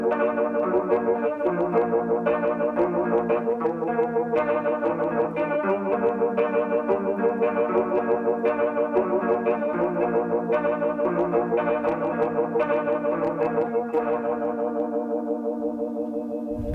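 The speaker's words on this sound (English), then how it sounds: "Beside that is the Phase 90 classic MXR pedal. If you know what a phaser is, it does exactly that." An electric guitar plays through an MXR Phase 90 phaser pedal set to a fast rate, giving a rapid swirling, whooshing sweep over picked notes and chords for the whole passage before ringing out at the end.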